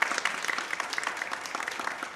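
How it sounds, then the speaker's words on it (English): Audience applause fills an evening theatre performance by a community performance troupe, a steady dense wash of many hands clapping at moderate volume, continuous for a couple of seconds with no voices on top. "let's give ourselves a hand for coming out."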